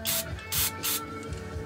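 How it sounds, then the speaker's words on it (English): Lubricant sprays in short hissing bursts into the valve area of a Harley-Davidson Iron Head engine during a top end build, three quick spritzes close up and fairly quiet, with no talking. "I'm gonna spray some of this in there."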